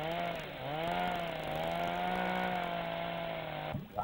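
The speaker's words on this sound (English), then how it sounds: "the big chainsaw" A big chainsaw runs steadily at high revs, its loud, buzzy drone holding for several seconds before cutting off abruptly near the end.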